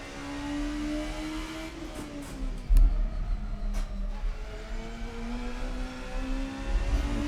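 Oldbac Kalana racecar engine in Assetto Corsa revs and pulls through the gears, a steady loud drone rising in pitch, with a brief shift thump partway through.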